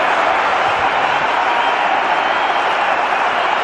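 A home cricket crowd roars in celebration after Shoaib Akhtar clean bowls Rahul Dravid in an India vs Pakistan final, with dense, loud, sustained cheering that stays steady throughout.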